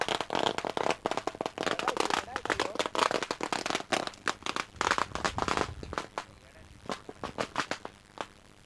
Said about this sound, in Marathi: अरे बाबा तिकडे फटाके लाव